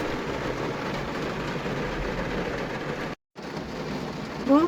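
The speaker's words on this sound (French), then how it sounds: "La pluie est arrivée en Bretagne, les amis." Rain falls outdoors in Brittany as a steady, even hiss of moderate loudness, with one short dropout near the end followed by a brief louder sound.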